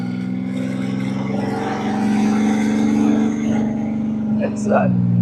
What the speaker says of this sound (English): it's got all that spoolie noise. Oh, you hear its turbo.